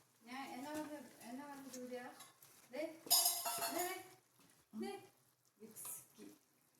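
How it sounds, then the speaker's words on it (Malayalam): A ladle stirs chicken curry in a home cooking pot with clinks and scraping, mostly under a woman's close, steady talking, with a brief louder metallic clatter partway through. "അപ്പം നമ്മൾ ചിക്കൻ കറിയുടെ അടപ്പ് തുറന്നപ്പോൾ ചിക്കൻ ഇങ്ങനെ വേവുന്നുണ്ട്. ഇത് നമുക്കൊന്ന് ഇളക്കി നോക്കാം."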